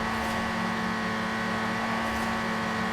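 A Golf GTI, set up as a cheap C-class front-wheel-drive rally car in Forza Horizon 4, is held at full throttle, its engine roaring loud and steady for the whole stretch with no talking.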